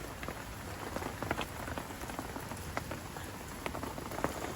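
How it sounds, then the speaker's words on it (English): Steady rain patters on the surface of a club fishing lake, a dense wash of drops with scattered louder close splashes, continuous and alone with no voices. "But it's only raining today"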